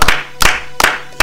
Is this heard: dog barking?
no